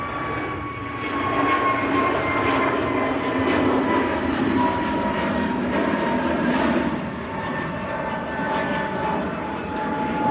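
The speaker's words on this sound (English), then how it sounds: "EasyJet to Antalya, the A321neo just taking off." An easyJet Airbus A321neo takes off from Manchester Airport, a loud steady engine roar with a distinct high whine running through it, holding strong before tapering off near the end.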